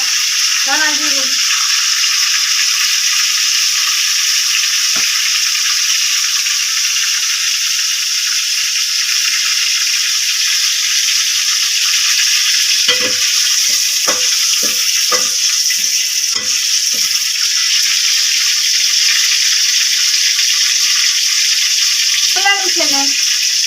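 Tomatoes frying in hot oil for a Gujarati fish fry dish: a steady, loud, hissing sizzle runs throughout, with occasional spoon stirs and brief scraping clatters and a faint voice near the start and end.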